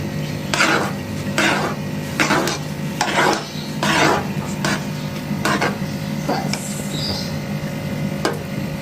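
Rice kheer being stirred in a pot with a spoon, producing a series of scraping, tapping strokes at a steady, unhurried rhythm, close and moderately loud over a low background hum.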